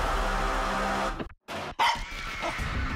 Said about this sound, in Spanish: Selena, ¿podrías ver por qué Jennifer está ladrando ahora?